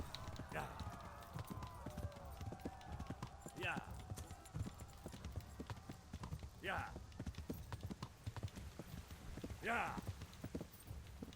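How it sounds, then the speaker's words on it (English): Horse hooves gallop at a steady rhythm in the medieval video game Kingdom Come: Deliverance, with periodic louder whooshing swells over continuous game background sound. "Gotta get the horse to start going."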